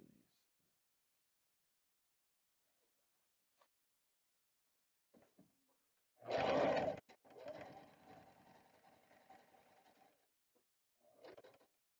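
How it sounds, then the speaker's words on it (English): Sewing machine running a short burst of stitches along a fabric hem, a loud whirring run of about a second followed by a quieter, longer stretch of reverse stitching, then a brief final burst, alone in a quiet room. "I'm gonna press reverse and go backwards, and that's gonna lock everything in"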